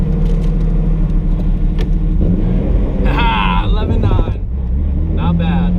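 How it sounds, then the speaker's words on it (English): A 600-horsepower drift Nissan Skyline engine runs loud and steady nearby at a drag strip, its tone roughening and stuttering as it breaks up at high RPM, with a rising whine as revs climb. "My car's breaking up a bit."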